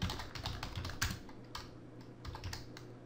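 Computer keyboard typing at a desk, a close run of quick uneven key clicks with brief pauses, over a faint low hum.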